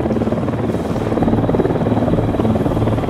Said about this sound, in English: We'll need that chopper.